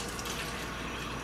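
Hot water runs from a tap for bread dough, a short, even hiss of flowing water at low level with no breaks.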